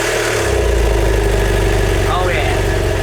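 A 2009 BMW F800 GS Adventure motorcycle engine catches after a short start and settles into a steady, loud, close idle with a throbbing low rumble, while a voice speaks briefly over it.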